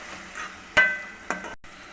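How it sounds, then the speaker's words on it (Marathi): Ground coconut, garlic and chili masala with cinnamon and bay leaf sautés in a pan for a Konkani chicken rassa, heard as a few quick scraping stirs over a faint sizzle, close by and without speech. "आपण वाटण आणि दालचिनी वगैरे ते सगळं एकत्र मिक्स करून आपण छान असं परतून घेणार आहोत"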